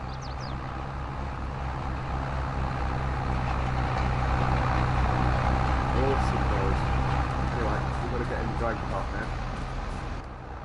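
McCormick mid-range tractor engine in Farming Simulator 22, a steady modern diesel drone held at constant loudness under other game sounds, with a person talking over it throughout.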